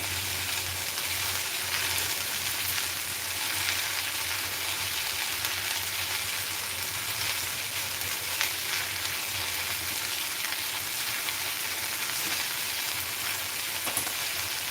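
Onions and curry leaves frying in a kadhai over high heat give off a steady, dense sizzle that stays close and even for the whole stretch, with no voices.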